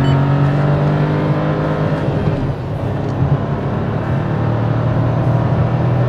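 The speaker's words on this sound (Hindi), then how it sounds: "इस गाड़ी का एक क्विक एक्सेलरेशन टेस्ट दिखाता हूँ" A Citroen C3 pulls hard from about 80 km/h during an acceleration test, its engine droning and rising steadily, loud and close from inside the cabin with road noise underneath and no talking.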